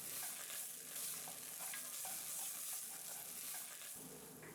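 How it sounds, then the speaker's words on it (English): Sofrito sizzling and being stirred in a cast iron pan for Spanish chicken and rice, a steady close hiss of frying with soft scraping strokes of the utensil. "we begin by stir-frying the sofrito and then adding some tomatoes"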